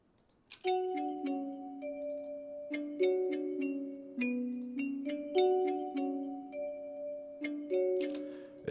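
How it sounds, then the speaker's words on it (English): A synth bell patch from Omnisphere's Ethnic World library plays a melody in a dark West Coast beat, clear struck tones in a repeating pattern with ringing decays, up close and alone in a clean mix. "I added this little bell over it."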